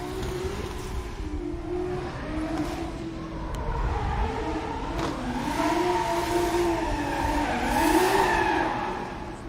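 A Toyota Supra drift car runs at a Formula Drift competition, its engine revving and wailing through shifting pitch while tires screech and skid continuously, getting louder toward the end, with no voices over it.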